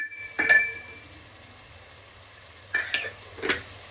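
Egg biryani gravy with coriander powder is stirred in a pan: a clinking scrape of the spoon against the pan, a pause, then two more quick stirring scrapes over a faint sizzle.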